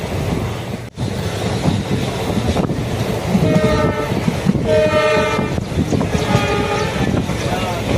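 An express train rumbles along the track with steady rolling noise, and a horn sounds in repeated blasts partway through, fairly close and loud.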